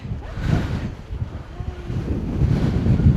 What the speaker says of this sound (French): Le vent il nous pousse.